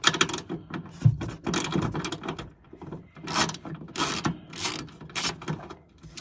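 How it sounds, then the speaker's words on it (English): A ratchet works an 8mm nut loose on a Nissan 370Z taillight, giving repeated close clicking runs in short bursts with brief pauses, no one talking. "should be able to gain access to the taillight after you remove that 8mm nut."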